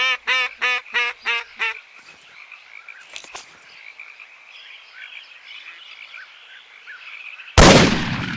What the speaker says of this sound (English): There's some ducks flying right at you.